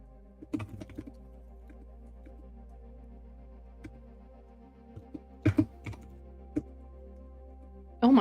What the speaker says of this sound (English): is my keyboard coming through?